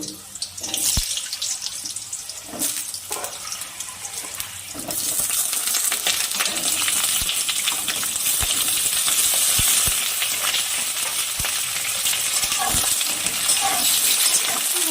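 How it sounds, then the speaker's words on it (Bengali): Potato and pointed gourd pieces frying in oil in a kadai, a continuous dense sizzle with scattered clinks that becomes louder and fuller after the first few seconds. "হালকা লাল করে ভেজে নেব আলু আর পটল।"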